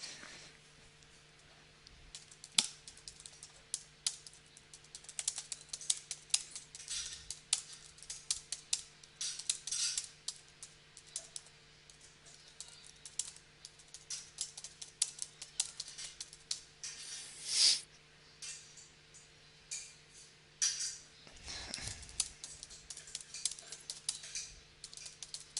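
Quiet clicking on a computer keyboard comes in uneven bursts and pauses, close and soft over a faint steady hum, with no talking.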